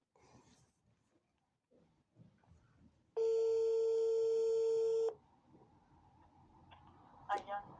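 A phone call being placed, with short dialing tones, then a loud sustained ringback tone lasting about two seconds, and a few brief beeps after it; faint voices murmur quietly before and after.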